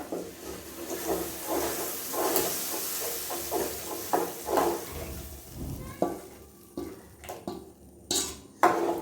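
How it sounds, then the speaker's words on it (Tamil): Batter being stirred into a hot sizzling tempering in a pan for mor kali, a spoon scraping and clinking against the metal in irregular strokes over a steady frying hiss, close and fairly loud. "நம்ம அப்படியே லைட்டாக இந்த பேட்டரை கலந்துக்குவோம்"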